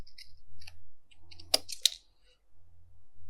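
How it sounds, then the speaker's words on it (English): Scissors snipping a cardstock piece, a few close crisp clicks and cuts clustered near the middle, with small handling taps before and after in an otherwise quiet room. "Let's just cut this one out first."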